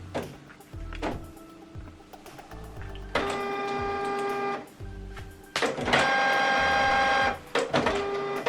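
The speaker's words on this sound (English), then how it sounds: "So this document now is going to print out from here." A printer runs a document sent from a laptop: short mechanical clicks, then two long, loud whirring feed passes separated by a brief pause, heard alone.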